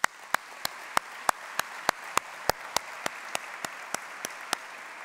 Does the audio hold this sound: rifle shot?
no